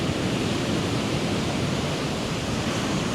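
Storm waves break and wash gently onto an open beach with no rocks in the way, a steady, broad roar of surf that continues without pause, loud and close.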